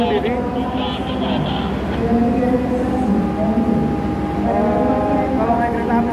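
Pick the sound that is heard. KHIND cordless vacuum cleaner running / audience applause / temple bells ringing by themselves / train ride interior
train ride interior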